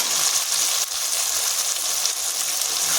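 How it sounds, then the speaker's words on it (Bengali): Peas hit hot oil and spices in a pan for ghugni made with goat fat, giving a loud, close, steady sizzle with faint stirring scrapes. "এখানে আমি এবার মটরটা দিয়ে দেবো"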